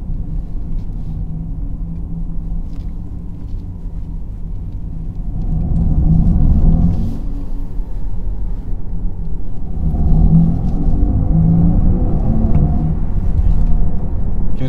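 Mercedes-AMG EQE 43 electric car climbing a hill, a steady low road rumble and drivetrain hum that swells twice as it pulls harder, heard from inside the cabin with no talking.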